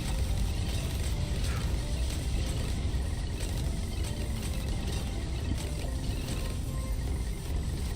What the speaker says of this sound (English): just enjoy the lovely and soothing sounds of balloons popping, ceramics clashing, and artillery firing